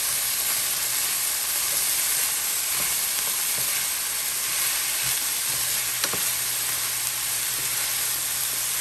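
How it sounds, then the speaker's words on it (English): Onions sizzling and frying in a pan while being stirred, a steady close hiss with a few soft scraping clicks, no talking. "Our onions. Give that a mix."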